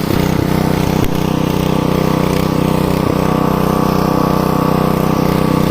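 A new electric water pump motor running steadily with a constant loud humming drone and faint rattling, close by, the motor spinning but failing to push water, with no talking.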